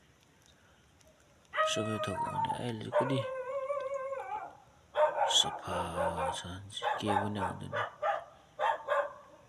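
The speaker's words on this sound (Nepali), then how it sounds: "कुकुर भुकिरहेको छ" A dog barks and yelps in short bursts near a rural Nepali village, the calls mixed in with people talking throughout.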